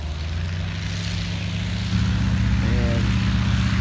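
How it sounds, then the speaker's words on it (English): Waco biplane's propeller engine revving on the ground, a steady loud droning hum with strong low harmonics that swells noticeably louder partway through, with no voices over it. "Here comes the Waco. It is revving up."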